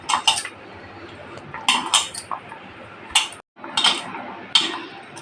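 Cut ridge gourd pieces are swished and rinsed in a metal bowl, giving irregular bursts of clinking, rattling and splashing at close range, with a short silent gap partway through.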